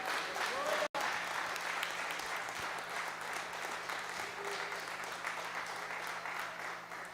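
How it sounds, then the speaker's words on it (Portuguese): A church congregation during a sermon in São Paulo claps together in a steady, even wash of applause that holds at a constant level throughout, with faint voices mixed in. "Palmas para o nosso Jesus."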